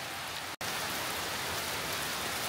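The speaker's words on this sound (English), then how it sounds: "We got nice, hard, steady rain." Hard, steady rain pours down along the Appalachian Trail, a dense, even hiss of drops hitting surfaces that continues throughout, interrupted once by a brief dropout.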